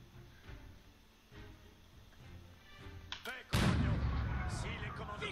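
Medieval cannon artillery in the strategy game Age of Empires IV, with faint muffled thumps at first and then one loud, close booming blast followed by a lingering rumble.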